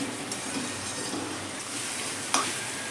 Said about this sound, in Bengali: ভেজে রাখা আলুগুলো দিয়ে আবার একটুখানি কষিয়ে নেবো